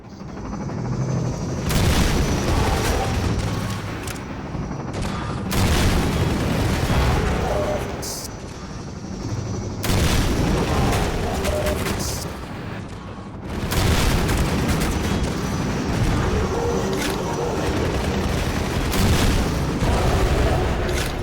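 Heavy booming explosions go off in Half-Life 2 MMod, several loud bursts with long rumbling tails spaced a few seconds apart, while a player talks intermittently.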